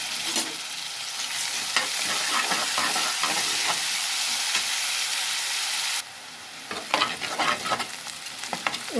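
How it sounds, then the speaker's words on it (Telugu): Onions frying in oil with rock salt in a pan, a loud steady sizzle with frequent spatula scrapes and stirs, close up, easing slightly partway through. "ఉల్లిపాయ ఎర్రగా వేగింది కదా"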